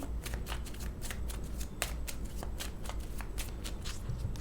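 Tarot cards being shuffled by hand: crisp riffling flutters repeating in quick bursts, close up and alone.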